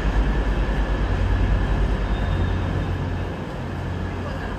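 A deep, steady rumble of a train running close by at King's Cross Station, London, heavy low-frequency noise that eases off slightly toward the end.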